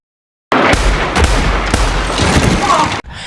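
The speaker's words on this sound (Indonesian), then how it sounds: "mengambil senjatanya dan mengeksekusi Zoller dengan 3 kali tembakan" Loud, dense burst of gunfire cracking in rapid succession, running continuously for a few seconds before cutting off abruptly.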